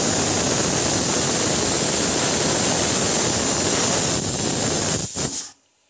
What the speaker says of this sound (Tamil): தண்ணி வந்து பார்த்திங்கன்னா இந்த அளவுக்கு வந்து ஊற்றுக்கிறேன்.